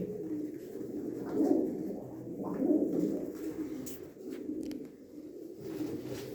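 Pigeons cooing in a loft, a steady low throaty warble rising and falling in soft repeated phrases, fairly faint and close, with no talk.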